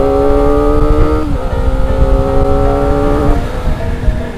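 Kawasaki ZX25R motorcycles on stock exhausts ride past, their high-revving four-cylinder engines whining loudly with rising and falling pitch as they shift gears, close and continuous with no talk.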